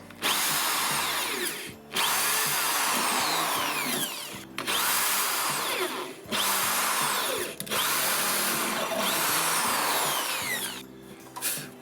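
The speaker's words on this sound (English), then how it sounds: "Right, so we'll align this and drill into it." A power drill whines loudly into wood in several long bursts, with short pauses between each run.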